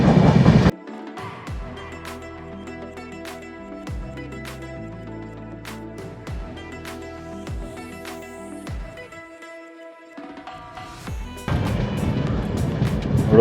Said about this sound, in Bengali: এই দেখো, কুণ্ডলিকা নদীর পাশ দিয়ে আমাদের ট্রেন ছুটছে।